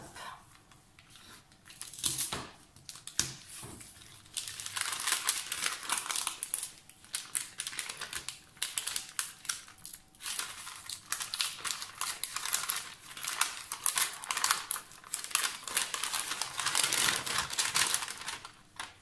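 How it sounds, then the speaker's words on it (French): An Advent calendar package from Sagabo Scrap is opened in a scrapbooking room, with loud, close paper crinkling, rustling and tearing in irregular bursts over about twenty seconds. "Il me reste à ouvrir celui du calendrier de l'Avent de chez Sagabo Scrap."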